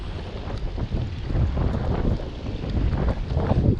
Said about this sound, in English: When there's like over 10-mile-an-hour winds like today